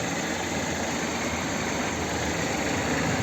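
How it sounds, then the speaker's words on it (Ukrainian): A steady, continuous engine rumble from a 2015 Jeep Patriot with a 2.4-litre petrol engine and automatic transmission, running at an even level throughout, with a broad low hum and no voices. "От робота двигуна."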